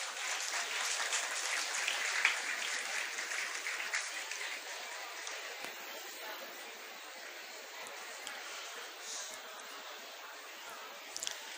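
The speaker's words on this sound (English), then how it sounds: "A round of applause for Parul Sahu." A crowd claps steadily, a dense wash of applause that gradually thins and softens toward the end.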